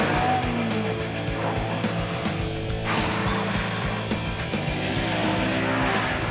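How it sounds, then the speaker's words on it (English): A Honda S2000 sports car is driven hard around a track, its engine revving and changing pitch through shifts, with tyre noise and a loud, close, continuous roar throughout. "Time for a one-lap challenge against my own sports car,"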